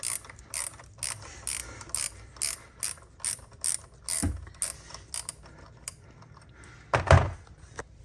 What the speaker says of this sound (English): So we got 10 millimeter on our ratchet, and let's take this off.